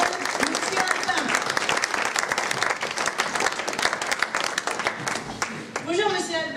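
A thunder of applause for Monsieur Albin from a theatre audience at a La Cage aux Folles performance, dense and loud clapping sustained throughout, with voices speaking over it near the end.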